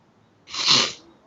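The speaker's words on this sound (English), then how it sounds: "good sneeze" A single short, sharp human sneeze, close and fairly loud, rising and fading within half a second against a quiet background.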